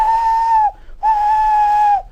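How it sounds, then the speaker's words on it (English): Two loud, clear blasts from a steam engine whistle in a Thomas the Tank Engine story, each about two-thirds of a second long with a steady pitch that drops slightly at the end, separated by a short gap. "Poor James disappeared under the bridge, whistling for help."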